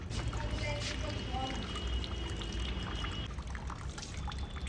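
Water poured over a small child's head during a home bath, a continuous soft splashing pour heard at moderate distance with household voices murmuring underneath.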